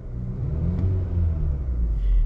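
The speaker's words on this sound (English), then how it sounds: "once it's running, you can see your RPM if I rev the car." Acura RDX with the 2.0T engine, idling and then revved once, giving a steady low rumble that swells and dips, with a second lift near the end; close and alone, with no talk.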